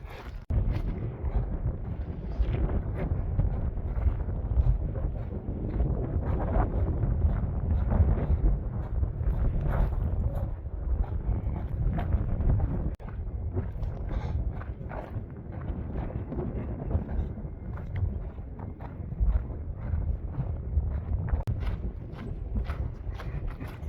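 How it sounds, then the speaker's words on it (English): Strong wind gusts buffet the microphone across open Tehachapi windfarm country on the Pacific Crest Trail, a loud, continuous low roar that swells and dips throughout with no talking. "Here comes the wind."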